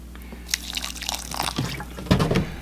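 Water trickling and dripping into a sandy simulated Mars soil mix that looks like cement, with small wet splashes and a heavier, closer pour of liquid near the end.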